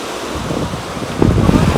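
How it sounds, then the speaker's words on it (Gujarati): Sea waves break and surge at Gopnath beach, a broad continuous roar mixed with wind buffeting the microphone, swelling louder toward the end. "અને મોજા એવા ધબધબાટી બોલાવે."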